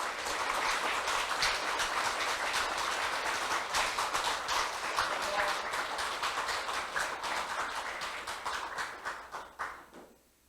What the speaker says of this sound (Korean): 박수로 이 많은 여공 스님에게 격려해 주시기 바랍니다.